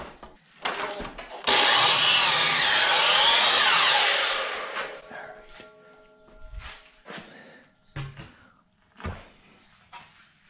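A power saw bites into rough sawn, wet 2x4 lumber to square the end, giving one loud continuous cut of about three seconds, followed by scattered knocks and handling of the board.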